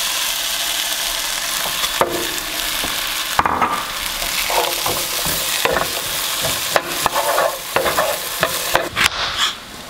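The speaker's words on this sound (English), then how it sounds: "I'm gonna get that in the frying pan." Diced potatoes fry in lard in a frying pan for a breakfast hash, a steady close sizzle broken by repeated scraping stirs and clacks from a spatula, with no talking.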